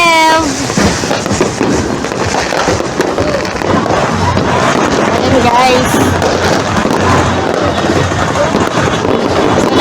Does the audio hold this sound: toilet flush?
no